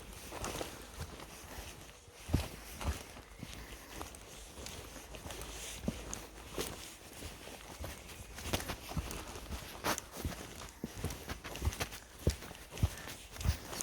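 A horse walks on forest ground in Ballykelly Forest, its hooves producing irregular, fairly soft clip-clop steps close by, with no voices over them.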